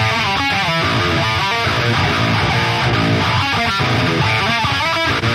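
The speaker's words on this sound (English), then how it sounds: "I personally really liked the OD1 for that really heavy distorted rhythm tone" Heavy distorted rhythm riffing on an 8-string guitar through a Neural DSP Fortin Cali OD1 tone, with loud, chugging palm-muted bursts and sustained chords played alone.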